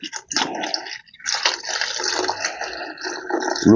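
Drinking water pours into a countertop ice machine being tested for the first time, a steady splashing rush that runs almost continuously, loud and close, with a brief pause near the start.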